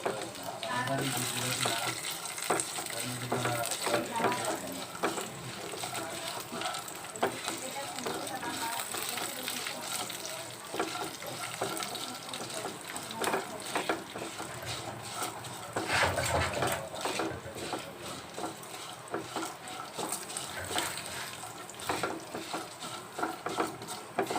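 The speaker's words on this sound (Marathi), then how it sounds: "चांगलं असं भाजून घ्यायचं" Dal and red chilli roast in a pan with a continuous soft sizzling and scraping hiss, interrupted by occasional stirring clatters, steady and close throughout.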